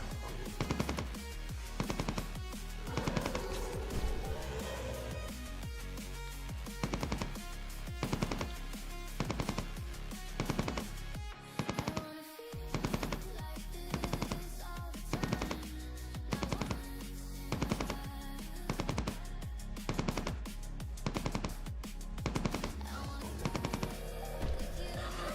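Rapid, repeated gunfire from the player's weapon in the online game Entropia Universe, with steady bursts of shots running throughout at an even, loud level and a brief lull midway.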